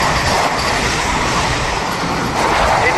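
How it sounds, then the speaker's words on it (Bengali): The Howrah–Patna Vande Bharat Express, departed from Howrah station, rolls past with a loud, steady rumble of wheels and carriages that swells slightly near the end, with no voices. "হাওড়া পাটনা বন্দে ভারত এক্সপ্রেস, যেটি হাওড়া স্টেশন থেকে ছেড়েছে বিকেল 3:50"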